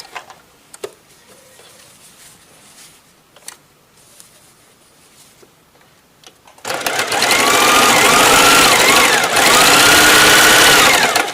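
Electric sewing machine stitching the lining of a crocheted flower granny square bag, a steady loud whirring run starting partway through after a quiet stretch of faint handling taps.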